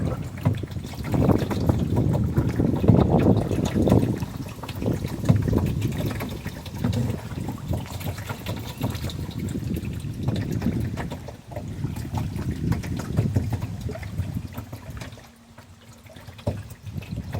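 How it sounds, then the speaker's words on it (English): Blustery wind rumbles and buffets steadily for a long stretch beside Talladega Creek, with watery sloshing underneath and a brief lull near the end; no talking. "with it being windy like this"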